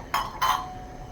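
Two quick metallic clinks, close and fairly faint, as a lid is set onto a cooking pan on the stove while squid roast cooks, followed by quiet.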